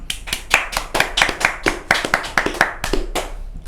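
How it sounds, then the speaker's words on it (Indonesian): A small group claps steadily for a fighter introduced as Maxi at a ringside talk event in a combat-sports setting. The sharp, closely spaced hand claps keep an uneven rhythm close by, and no one speaks over them. "beri tepuk tangan yang meriah untuk Maxi"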